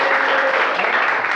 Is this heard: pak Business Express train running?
no